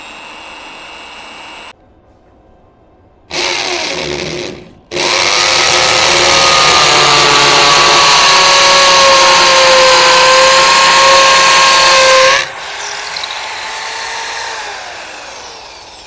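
BUILDSKILL 650W electric drill running, starting with short bursts then a loud sustained whine at low speed with shifting pitch, before dropping to a quieter whir.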